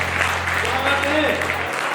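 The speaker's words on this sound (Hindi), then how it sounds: "थोड़ी बहुत तालियां बच गई।" An audience claps at a Hindi poetry recital in Sitapur, a sustained burst of applause from a crowd that fades out near the end.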